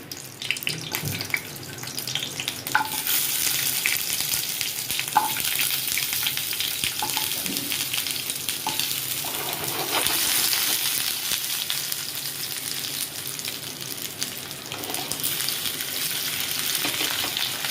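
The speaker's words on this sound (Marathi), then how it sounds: "आता ह्याच्यामध्ये आपल्याला मस्त कबाब टाकून घ्यायचे" Kebab pieces fry in a hot pan with a steady, close hiss and crackle that runs throughout, joined by a few light knocks and clinks of utensils; no one speaks.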